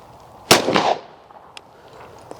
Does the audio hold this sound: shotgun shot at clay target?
yes